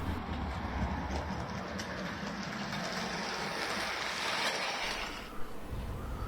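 An old, weathered Hornby OO gauge model locomotive rumbles along a home layout with a low, steady rolling clatter, fairly close, before it fades near the end and a single small knock is heard.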